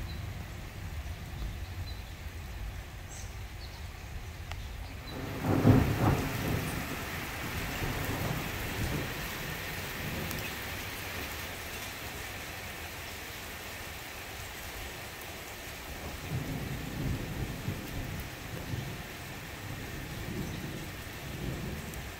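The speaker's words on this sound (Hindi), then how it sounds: "यहाँ पे मैं आपको अभी थोड़ी सी बादलों की भी आवाज़ सुनाती हूँ।" Thunder cracks and rolls nearby during a steady downpour of rain. A loud clap is followed by a long rumble, and later a second, softer roll sounds beneath the constant hiss of the rain.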